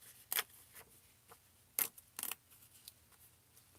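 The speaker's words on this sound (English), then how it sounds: "I'm just going to go ahead and rip this down here." Paper guest check being torn by hand in a quiet room, a few sharp, close rips and crinkles in short bursts with pauses between.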